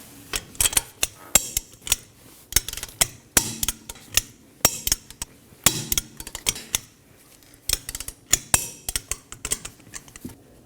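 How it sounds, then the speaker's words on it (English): Sharp, clicking metallic ticks at a steady, busy pace, close and loud, while a torque wrench tightens five wheel lug fasteners on a Ford Transit Connect with no voices. "we're going to torque our 5 fasteners to 100 foot-pounds in an alternating pattern"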